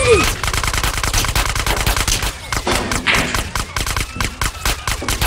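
Rapid automatic gunfire rattles in bursts in the GTA Underground video game set in Liberty City, sharp repeated shots with thumps mixed in throughout.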